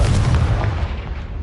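A Confringo spell blast from Hogwarts Legacy, one loud, close, booming explosion with a heavy low rumble that decays gradually.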